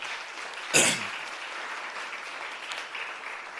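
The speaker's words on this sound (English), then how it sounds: "let's once more give them a round of applause and motivate them" Audience applause for learners at a MICT SETA digital skills workshop held with a TVET college: a sharp burst of clapping that quickly fades into a low, steady murmur of the room.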